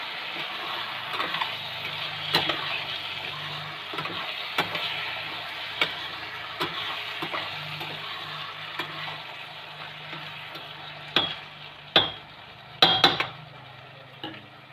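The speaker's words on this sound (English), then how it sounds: "I'm going to mix all these things along with the masala" Frozen peas being mixed with masala in a pot, with a steady soft scraping and stirring hiss and scattered sharp clinks of a spoon against the metal, growing louder toward the end.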